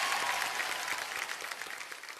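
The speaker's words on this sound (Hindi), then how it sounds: "इसी बात के लिए तालियां." Audience applause on a televised dance competition stage, a dense, even wash of clapping that is fairly faint and tapers slightly toward the end, without talk.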